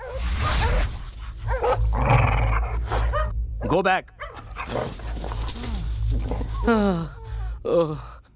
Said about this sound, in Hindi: तो इन कुत्तों को इंग्लिश में बोलना पड़ता है।